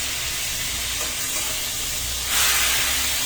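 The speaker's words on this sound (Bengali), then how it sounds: "হালকা একটু মাছটা ভেজে নিলে ভালো লাগে আর স্মেলটাও ভালো আসে।" Fish fried in a wok (kadai) to make Naogaon-style potato ghati, a steady close hiss and sizzle of hot oil that swells louder near the end, with no talk.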